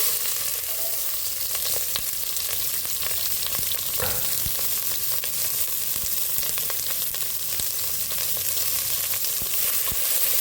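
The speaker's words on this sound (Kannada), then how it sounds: "ಇದೆಲ್ಲ ನಾನು ಒಂದು ಪ್ಯಾನಲ್ಲಿ ಫ್ರೈ ಮಾಡ್ಕೊತಾ ಇದ್ದೀನಿ" Ginger, garlic and four green chillies fry in a pan with a continuous bright sizzle and crackle, broken now and then by stirring scrapes, steady and close for about ten seconds with no talking.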